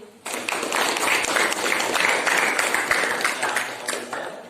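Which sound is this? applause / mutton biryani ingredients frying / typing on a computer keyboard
applause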